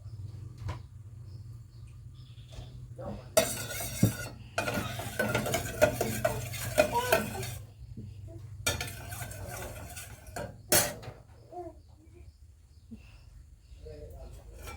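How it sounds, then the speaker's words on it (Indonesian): Shallots and garlic sautéing in oil in a home kitchen pan, with bursts of broadband sizzle and spatter mixed with spoon stirring and pot and utensil clatter against a steady low hum. "kita masukkan minyak secukupnya saja ya untuk numis bawang merah, bawang putihnya ya"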